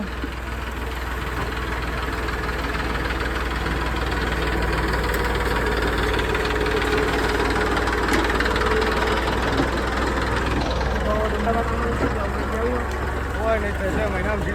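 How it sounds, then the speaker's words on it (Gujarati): A tractor engine idles nearby with a steady, low knocking rumble throughout, while a person talks over it. "જો આ ટ્રેક્ટર છે"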